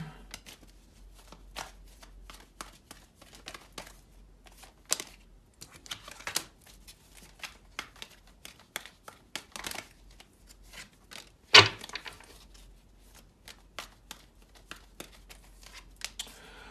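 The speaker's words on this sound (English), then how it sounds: "let's get a few cards out" Tarot cards being shuffled and dealt, a long run of quick soft riffling flicks and taps with one sharper snap partway through, no talk.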